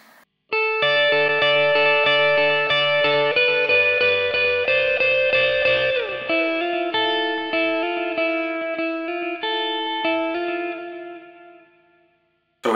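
Electric guitar with chorus and effects plays a riff, clean ringing picked notes with accented high notes, steady and alone at moderate level for about twelve seconds.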